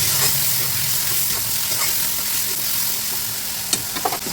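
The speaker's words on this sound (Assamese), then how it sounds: "বিলাহীখিনি মই ধুনীয়াকৈ ভাজি ল'লোঁ" Tomatoes frying with turmeric in a pan are stirred steadily, giving a continuous close sizzle with the scrape and clatter of the spoon growing sharper near the end.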